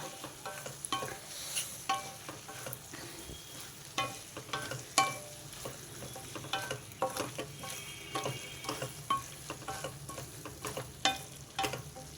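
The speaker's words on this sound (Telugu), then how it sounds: "ఇదంతా బాగా కలిపేసుకుంటా" Brinjal and tomato curry is stirred in a frying pan, with soft, repeated spoon scrapes and light sizzling throughout, fairly quiet and close, with no talking.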